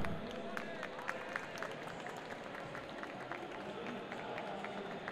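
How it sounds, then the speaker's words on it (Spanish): An audience at a Super Smash Bros. Ultimate crew battle at a convention gives sustained, fairly faint applause for a player, with dense clapping running steadily and no voices standing out. "un aplauso."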